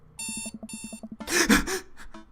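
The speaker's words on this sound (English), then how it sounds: "I jolt awake to the sound of my alarm." An alarm clock rings in the video game Dream Daddy, giving two bursts of bright electronic trills. A loud gasping breath and a brief rustle follow.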